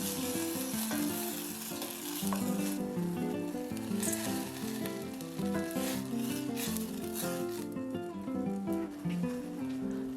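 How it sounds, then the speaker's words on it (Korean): Water bubbles and sizzles steadily in a hot frying pan with mushrooms, a dense crackling hiss with soft popping, fairly quiet and continuous. "물 100ml를 넣고 끓여줍니다."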